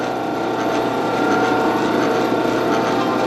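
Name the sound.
metal lathe carriage moving while cutting a 32 TPI thread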